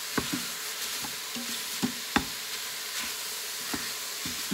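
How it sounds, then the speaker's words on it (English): Ground beef for chili browns in a pan with a steady, close sizzle, broken by irregular scraping knocks as a utensil chops and stirs the meat, with no one talking. "we just wanna get the ground beef mostly cooked"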